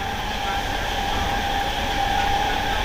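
Near-empty passenger train running on rails toward Bardhaman, heard from inside the carriage as a loud, steady rumble with a faint high whine and no voices.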